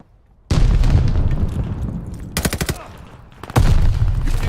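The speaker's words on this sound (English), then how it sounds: "Tossing grenade." In Call of Duty MW2, a grenade explosion bursts with a loud boom, followed by rapid gunfire and another blast, all close and punchy over a brief quiet start.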